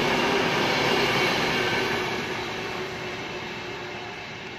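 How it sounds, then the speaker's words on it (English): A Virgin train passes through Leighton Buzzard station with a close, loud, continuous rumbling roar that gradually fades as it moves away, with no voices. "That's a Virgin train, mate."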